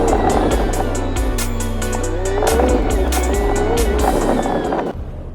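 A car driving down a residential street, with a steady engine and road rumble close by, continuous for about five seconds before dropping off near the end.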